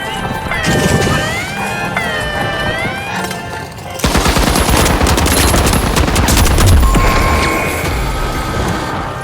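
Rocket launcher fire and explosions in the multiplayer shooter The Finals: after a musical game sound, a dense, loud stretch of blasts, crashes and rapid impacts rumbles on for several seconds.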